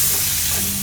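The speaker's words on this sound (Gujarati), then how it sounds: "થોડી હિંગ નાખી દઉં." Asafoetida hits hot oil for a tempering in a Gujarati carrot-tomato curry, giving a loud, steady close sizzle that holds evenly through the short moment with no voice.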